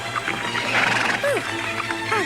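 Small horses neigh and whinny with trotting hooves in a storybook scene, several rising whinnies over a steady, fairly loud clatter of hoofbeats.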